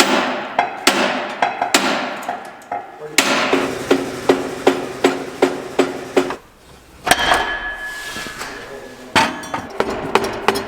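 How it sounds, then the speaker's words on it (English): Repeated heavy blows from an 8-pound sledgehammer on farm equipment ring out close and loud, a steady series of sharp metallic strikes with a brief pause midway. "you wanna grab that 8-pound sledgehammer, Coop?"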